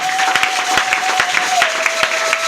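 A church congregation applauds in acclaim of Jesus Christ, a dense, loud patter of many hands clapping steadily over a sustained tone and faint voices.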